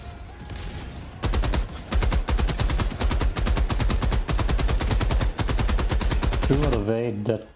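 Sustained automatic gunfire from the video game Helldivers 2, a rapid, evenly spaced burst of loud shots running for several seconds before cutting off, with a brief voice at the very end.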